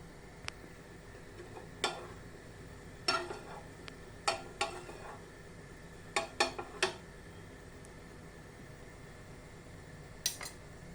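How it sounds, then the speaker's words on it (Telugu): Ghee heats in a hot pan under a low, steady sizzle, while a metal spoon stirs with scattered sharp clinks and scrapes against the pan. "నేను ఇప్పుడు ఘీ వేస్తున్నానండి."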